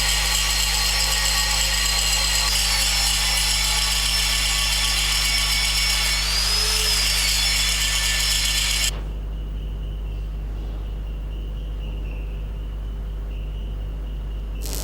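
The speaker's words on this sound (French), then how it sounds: "recherchez la meilleure prise pour tenir fermement la meuleuse." An angle grinder works on a weld bead from stick electrode welding, a loud steady high whine with a constant motor hum that drops abruptly to a quieter lower drone partway through as the disc eases off the metal.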